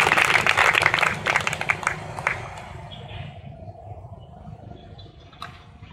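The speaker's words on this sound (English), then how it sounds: "Great ladies, a clap to these great ladies kindly" A church congregation at a land dedication claps loudly and densely for the ladies, the applause thinning and fading after about two seconds into quieter room noise.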